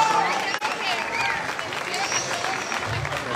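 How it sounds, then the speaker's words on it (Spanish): An audience at an international mariachi and charrería festival gives a mariachi band a loud round of applause, sustained clapping from a large crowd with a brief dip near the start and cheering voices mixed in. "Un aplauso fuerte para ellos."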